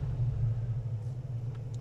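A 1985 Ford Mustang GT engine idles just after starting, a steady low rumble heard up close with no talk.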